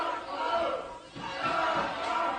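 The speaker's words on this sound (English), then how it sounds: "Listen to the crowd." A large wrestling arena crowd at a WWE match in Ohio roars and cheers in sustained, swelling waves, loud and distant-sounding, with no clear speech in the foreground.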